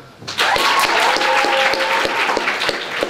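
A festival audience applauds writers on a panel: dense, loud clapping starts abruptly and continues steadily, with a few individual claps standing out near the listener.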